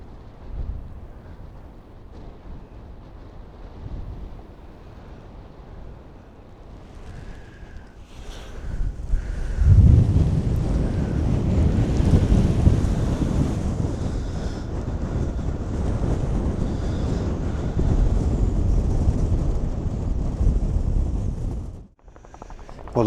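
Strong wind buffets an exposed hilltop edge near a trig point, rising from a moderate rush to a loud sustained roar battering the microphone, then cutting off abruptly near the end, with no speech.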